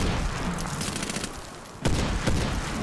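Rapid gunfire crackles through a Medal of Honor: Warfighter multiplayer match, followed by two sharp grenade blasts close by, with no talking.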